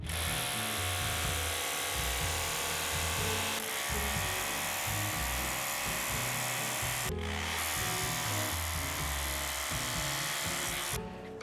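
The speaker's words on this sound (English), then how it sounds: "this hammer drill is getting super hot" A hammer drill bores into a 168-year-old brick wall with Portland cement and plaster in a Philadelphia rowhouse, giving a loud, steady grinding roar that breaks off briefly twice.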